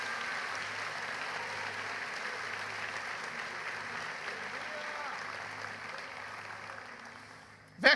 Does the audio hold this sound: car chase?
no